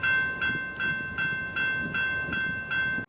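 A railroad crossing bell rings in a steady repeating rhythm, about eight strikes, over a low rumbling background, moderately distant.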